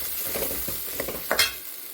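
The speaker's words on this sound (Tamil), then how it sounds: "அரைச்சி வச்சுருக்க அந்த மசாலாவை இப்போ இதோடு சேர்த்துக்கலாம் சேர்த்துட்டு புளிக்கரைசலையும் சேர்த்துக்கலாம் ஒரு அப்படியே மிக்ஸ் பண்ணி விட்டு" Ground masala and tamarind water being mixed into a fish curry in a pan, a brief wet stirring and scraping over a low sizzle, with a couple of louder spoon strokes.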